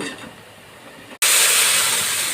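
Mustard seeds and urad dal are tempered in hot oil for a snake gourd kootu. A soft background suddenly gives way to a loud, bright, continuous hissing sizzle that holds strong to the end.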